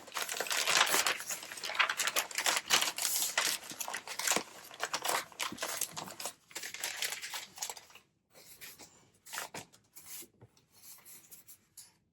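Scissors snip and rasp through packaging material, a run of rough, crinkly cutting strokes close by that grow sparser and more intermittent toward the end, with no talking.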